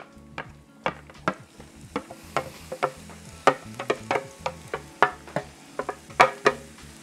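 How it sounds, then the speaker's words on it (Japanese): Onions go into a frying pan where garlic has been gently cooking in plenty of oil over medium-low heat for a meat sauce. A steady sizzle sits under a run of close, sharp scrapes and clatters from stirring. "ここで玉ねぎが入ります。"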